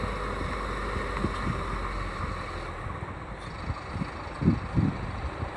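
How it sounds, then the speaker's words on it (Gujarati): A boat engine at Sartanpar port gives a steady low throbbing hum throughout, with a few louder knocks and thumps near the end, no voices present. "આ મશીન છે હોડીનું."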